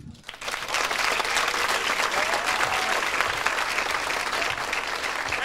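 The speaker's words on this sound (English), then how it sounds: "Keep a nice applause going for Louis, ladies and gentlemen" A comedy club audience in Austin claps steadily and loudly for a comedian after a brief quiet start, dense crowd applause sustained for about five seconds.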